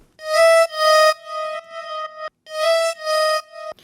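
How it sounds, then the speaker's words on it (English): A synth lead from an Ableton Live production of a track plays two sustained, bright notes in a short repeated phrase, heard alone and clearly with no talking. "Now let's talk about synth lead."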